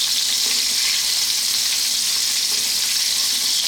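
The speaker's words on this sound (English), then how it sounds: "I'll grab a spoon, because we're concentrating on the skin side, but I'm going to be basting" Pork belly fries skin side down in a pan while hot fat is spooned over it, giving a loud, continuous crackling sizzle with a steady hiss throughout.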